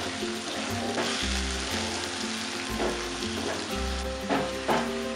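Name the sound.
tomatoes frying and stirred into the prawn masala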